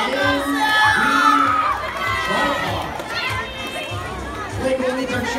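A crowd of children and spectators cheers and shouts at a FIRST LEGO League Hydrodynamics robotics competition. The loud, continuous roar has excited yells rising above it, and an announcer talks over the noise.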